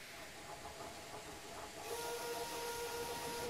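A train rumbles with a steady hiss of steam, a loud broadband wash that swells partway through as a sustained tone rises over it, heard without any talking.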